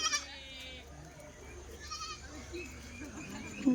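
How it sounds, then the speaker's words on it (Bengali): Goats bleating in a rural village homestead, a few short wavering bleats near and at a middle distance, with ambient outdoor noise in between. "তো কত ছাগল বাপরে এই বাড়ির সব"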